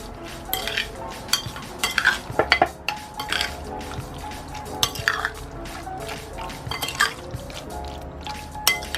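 Lok lak sauce and two cloves of garlic being mixed in a bowl, with clinking and scraping of a spoon against the bowl and wet stirring and dripping sounds, irregular and close, with no talk.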